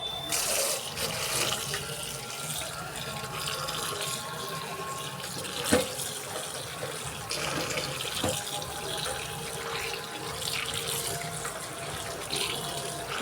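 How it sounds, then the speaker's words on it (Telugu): Steady running tap water at a kitchen sink while lentils are washed, a continuous splashing rush with small clinks, fairly quiet and with no speech over it. "వాటర్లో మంచిగా నీట్గా వాష్ చేసుకోవాలండి"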